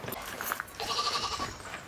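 A goat on a backyard farm gives one clear bleat near the middle, over a soft, low background rumble.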